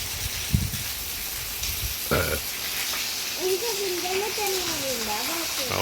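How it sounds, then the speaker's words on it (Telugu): Heavy rain pours over a village in a steady, dense hiss that lasts throughout, with a brief thump early on, a short burst midway, and a wavering whine rising through the latter half. "వర్షం చూడు ఎట్లా కొడుతుందో"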